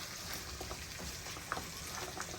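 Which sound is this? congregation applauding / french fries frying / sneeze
french fries frying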